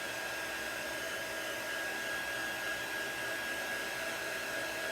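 A hair dryer blows steadily on popsicle sticks, a constant close whooshing roar with a thin high whine, with no speech.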